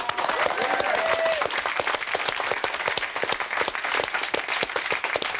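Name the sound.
studio audience applause and cheering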